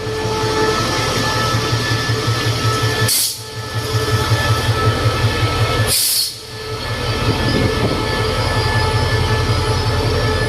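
Express train 83, hauling two baggage cars, rolls into Bang Bamru station with a steady loud rumble of wheels on rails, rhythmic clatter and two sharp bursts of squeal or air.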